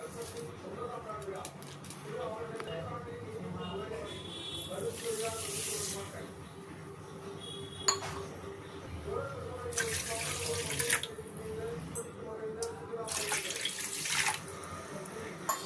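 Water is poured into a vessel with sugar to make syrup for gulab jamun, a close splashing, gushing flow in a few separate bursts while someone talks throughout.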